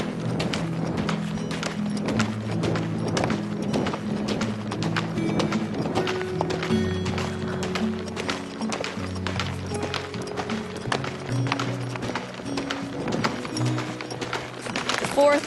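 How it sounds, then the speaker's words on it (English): A horse gallops in a fast, rhythmic drumming of hoofbeats on a dirt trail in Death Valley, close and continuous, with a person speaking over it. "It takes a pretty amazing horse to move smoothly enough at the gallop"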